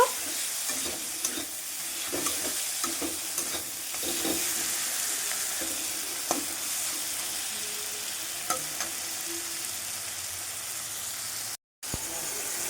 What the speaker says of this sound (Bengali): আমার একশো মতন চিংড়ি মাছ নিয়েছি নুন হলুদ মাখিয়ে নিয়েছে সেটা দিয়ে দেব দিয়ে খুব ভালোভাবে কষিয়ে নেব